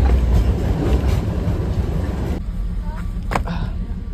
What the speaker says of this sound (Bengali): রংটং স্টেশন দিয়ে ট্রেন বেরিয়ে গেছে